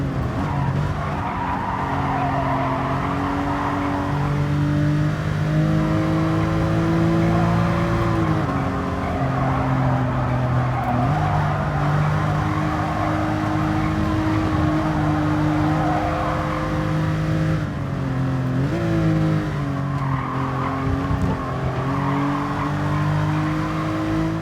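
Race car engines roar continuously in Gran Turismo Sport, loud sustained harmonic drones rising and falling through gear shifts, with tire skids mixed in throughout.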